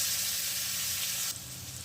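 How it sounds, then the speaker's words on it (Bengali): Nigella seeds and ginger-garlic paste hit hot oil in a pan, giving a loud, steady close sizzle that drops slightly in intensity partway through. "এখন আমি তেলের মধ্যে দিয়ে দিলাম কালো জিরে, তারপরে দিয়ে দিচ্ছি আদা রসুন বাটা"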